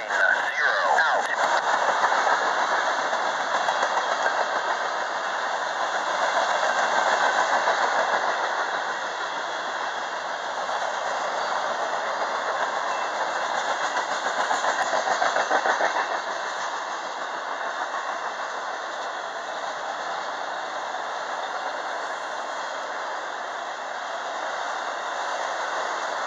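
BNSF freight train passing at dusk in snow, a steady loud rumble and hiss of railcars rolling by close for the whole stretch, swelling slightly at times.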